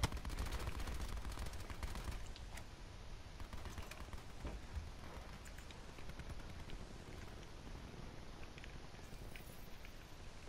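Gunfire in the Black Ops 4 video game, a dense, rapid crackle of distant automatic shots running steadily throughout, faint and continuous with no clear voices.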